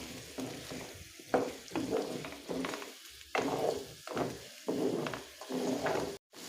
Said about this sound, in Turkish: patateslerimizi de ekleyip tekrardan şöyle patateslerimizle de bir 2-3 dakika daha kavuracağım